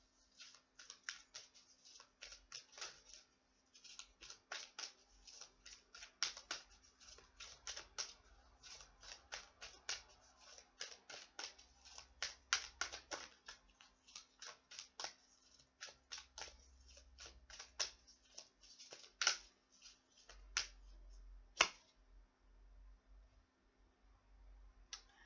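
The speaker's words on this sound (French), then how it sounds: "Je vais tirer une carte malgré tout sur l'anxiété" Cards are shuffled and drawn from a tarot or oracle deck, a long run of quick, crisp flicks and snaps at close range, quiet, with a faint steady hum beneath.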